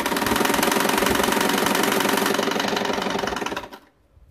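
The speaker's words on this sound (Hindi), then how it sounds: "ये पूरा हम इस ढंग से सिलते जाएंगे।" A sewing machine stitches cloth for a multi-pocket bag made from leftover clothes. It runs a fast, steady, rattling rhythm for nearly four seconds, close and loud, then stops abruptly.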